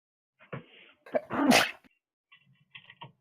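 A single close, sharp human sneeze after a brief intake of breath, followed by a couple of faint soft sounds in an otherwise quiet room.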